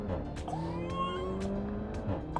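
A 2020 Renault Megane RS Trophy engine revs and pulls through gears, tones rising and dropping with gear changes, moderately close, with no talk.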